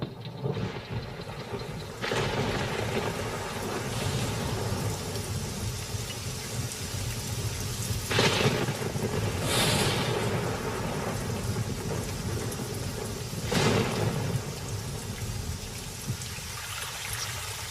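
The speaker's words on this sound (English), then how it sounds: "But now a tremendous storm is brewing." Thunderstorm over the Kalahari after a long drought, with steady heavy rain hissing throughout and several loud thunder cracks and rumbles breaking through at intervals.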